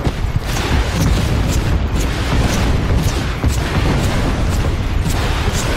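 Gunfire and explosions in Just Cause 3 pound away relentlessly, a loud, dense barrage of rapid shots and booming blasts repeating at short intervals without pause, with no talking over the din.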